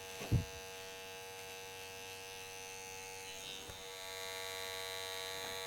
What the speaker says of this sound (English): take the corner of your trimmer and just go in this way or the opposite way just to fade that out